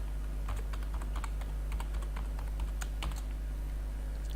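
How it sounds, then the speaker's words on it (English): Computer keyboard keys tapped at an irregular pace while a password is entered, a steady stream of light clicks over a constant low electrical hum, with no voices. "then type in your password"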